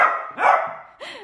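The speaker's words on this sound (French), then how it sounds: "Elle a peur du globe. Elle est con cette chienne." A frightened dog lets out three short, close barks with a whiny edge, reacting to a globe indoors, the barks sharp and separated by brief pauses.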